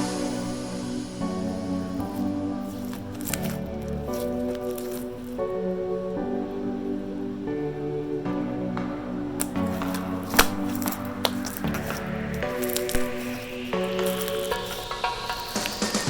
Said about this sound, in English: Listen to my slimy noises.